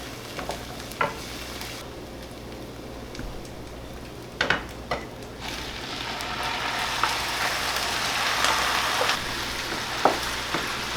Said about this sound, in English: I like this wooden spatula just to kind of break up the venison, cook it down